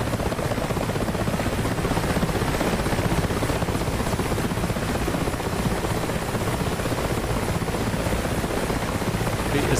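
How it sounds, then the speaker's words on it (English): Helicopters flying in the combat flight simulator DCS World during a capture of North Tinian, a loud, continuous rotor and engine drone holding steady throughout with no talk. "the helicopters are in to capture North Tinian"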